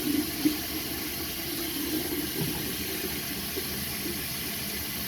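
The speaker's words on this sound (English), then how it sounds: "Mrs. Jones, I'm just going to go and fill your basin up with some warm water" Hot and cold tap water runs steadily into a basin to fill it with warm water, a continuous close rushing hiss with a faint splash near the start.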